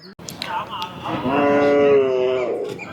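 A Kangeyam native cow lows at a cattle market with a long, drawn-out moo, loud and close, after a brief knock at the start.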